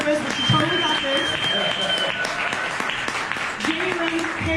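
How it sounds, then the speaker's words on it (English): An audience at a photography event applauds a presenter welcomed to the stage, a dense burst of clapping with scattered sharp claps and crowd noise throughout. "Give a round of applause."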